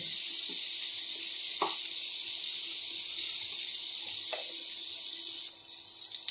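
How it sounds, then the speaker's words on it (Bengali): Chopped tomatoes dropped into browning onions in a frying pan for a water lily curry, giving a steady close sizzle and hiss with a few brief stirring clatters. "এবার আমি কেটে রাখা টমেটোটা দিয়ে দেব। ভালো করে নেড়ে চেড়ে নেব।"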